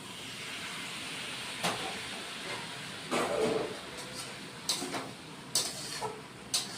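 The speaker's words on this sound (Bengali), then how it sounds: "আবার কষিয়ে নিব অল্প জল দিব" A pan of jackfruit and prawn curry gives off a steady hiss, with a few brief louder sizzles and clinks as a little water goes in, close and with no one talking.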